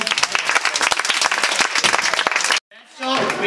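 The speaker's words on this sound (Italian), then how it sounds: "un applauso!" A crowd at the ST.ART street arts festival in Tortona applauds a street performance, loud and dense clapping that cuts off abruptly before a voice starts speaking over the speakers.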